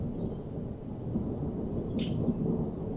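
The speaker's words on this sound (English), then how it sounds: "And there's the thunder." Thunder rumbles during a storm amid steady rain, a deep continuous roll with one sharper crack partway through, loud and without talk.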